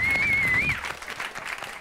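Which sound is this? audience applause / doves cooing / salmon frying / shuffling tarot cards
audience applause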